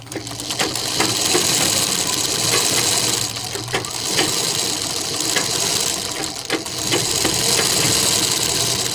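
A sewing machine runs steadily, stitching back along a collar seam on a neck design, with a continuous motor whir and a few brief pauses and restarts.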